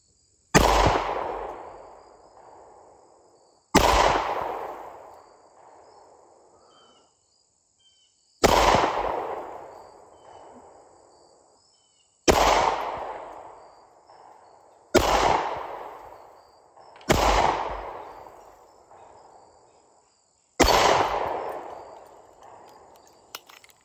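A Springfield XDS Mod 2 3.3 .45 ACP pistol fires seven loud, sharp single shots at uneven intervals outdoors, each followed by a long echoing decay.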